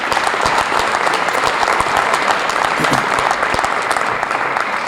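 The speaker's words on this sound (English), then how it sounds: "give our community and our teachers and administration a round of applause" Sustained applause from a crowd, steady clapping filling the whole stretch at a fairly loud, even level.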